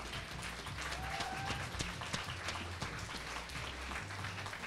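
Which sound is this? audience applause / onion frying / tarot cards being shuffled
audience applause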